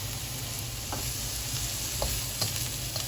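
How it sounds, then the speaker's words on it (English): Shiitake and shimeji mushrooms with carrots and garlic stir-fry in a pan, a dense continuous sizzle broken by a few brief scraping stirs. "You can lower down your heat and just give them a quick stir fry"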